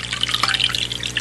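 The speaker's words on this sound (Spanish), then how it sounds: "Llena una taza medidora con exactamente una taza de agua." Water poured into a measuring cup makes a short, close, bubbling splash and trickle.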